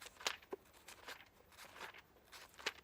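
Several crisp, papery rustles and flips of Bible pages come one after another, quiet and close, with short pauses between them and no talking.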